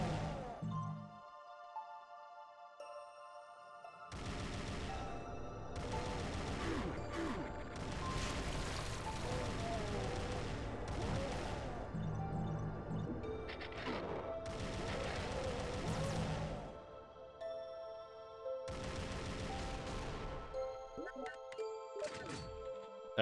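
Fully upgraded SMG fire in a zombie video game comes in long rapid bursts separated by short pauses, loud and punchy, with faint voices underneath.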